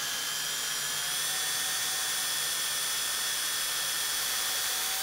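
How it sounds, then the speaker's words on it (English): A drill slowly bores through a chair spindle into hard maple wood, giving a steady, close, high-pitched whine that holds evenly without a break. "I'm drilling in. I'm feeling it go through the spindle"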